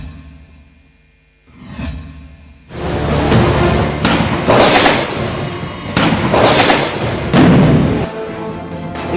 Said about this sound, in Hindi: आतंकी बेहिसाब गोलियां दाग रहे थे